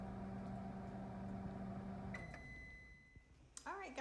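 A microwave oven heating a cup of ready-to-serve rice gives a steady, fairly loud hum for about two seconds, then sounds a sustained beep, followed by quiet and a brief voice at the end.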